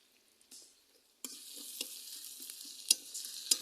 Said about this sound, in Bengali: একটু কাঁচামরিচ, পেঁয়াজ এগুলো দিয়ে দিলাম। একটু ভাজা ভাজা করে